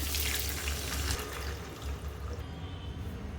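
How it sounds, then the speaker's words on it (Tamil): Cooking water from boiled onion and tomato pours into a pan of sambar, making a continuous, moderately quiet splashing rush that thins out toward the end, with no talking. "இப்போ வெங்காயம் தக்காளி வேக வச்சு தண்ணியை சேர்த்துக்கிறேங்க"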